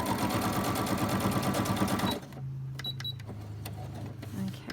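A home sewing machine runs a straight stitch in a fast, dense whir for about two seconds, then stops, leaving quieter clicks and a soft hum.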